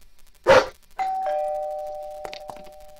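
A two-tone ding-dong doorbell chimes in the video game Faithful Friend, ringing out clearly after a short burst of noise, its tones sustaining and fading amid a few faint clicks.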